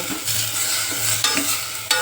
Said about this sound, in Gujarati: આ રીતે વઘાર કરો